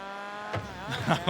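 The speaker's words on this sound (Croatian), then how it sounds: "Odličan zvuk motora, obožavam ga." A revving Rocket League car engine with a buzzing, tonal drone that climbs and shifts in pitch, loud and close, with brief bursts of other game noise during an esports match.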